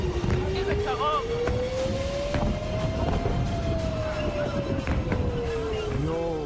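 Air raid sirens wail across Israel, one long rising and falling tone sweeping slowly up and down over a dense wash of background noise, with other fainter siren tones overlapping.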